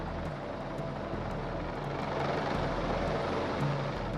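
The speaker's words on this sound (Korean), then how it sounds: "뒤이어 중형 헬기가 사고 현장으로 진입 중입니다" A medium helicopter approaching a rooftop for a rescue during a fire service ceremony: a steady, loud rotor drone with a constant engine hum, no voices.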